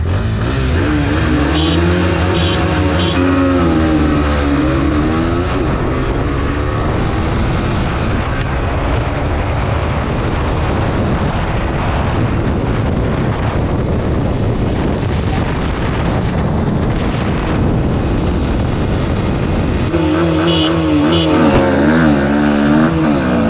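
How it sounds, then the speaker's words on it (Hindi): A TVS Apache RTR 160 4V and a Pulsar NS 160 launch side by side in a drag race, engines revving hard and loud with rising pitch through the gears over heavy wind buffeting, then a fresh high rev near the end. "लॉन्च हुई है भाई, ये एकदम खतरनाक अपाची 4V लगी हुई है बगल में, 4V आगे निकल रही है भाई।"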